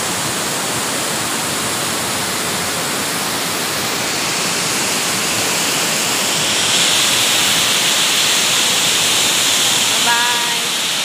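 Steady, loud rushing water fills the whole stretch, a dense unbroken roar like a waterfall or fast stream close by.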